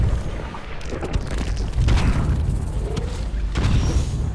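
A sustained enemy beam attack from the video game Source of Madness roars steadily for several seconds, a dense rumbling blast with brief crackling bursts layered over it, loud and close.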